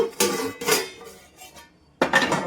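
A metal lid comes off a pan of cooking pea and cabbage vegetables, heard as a few loud, close clanks and knocks of metal on metal, with a pause before a final clatter.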